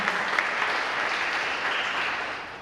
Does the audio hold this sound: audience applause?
yes